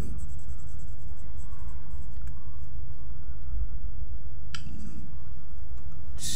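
Pen or pencil drawing a cartoon baby dragon on paper, a steady close scratching and stroking with a few light taps, over a low background hum.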